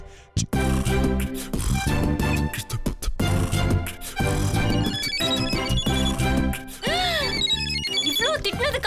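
A phone rings with an incoming call in a Tamil TV serial scene, a loud repeating electronic ringtone over dramatic background music, with a short pause and rising chirps near the end.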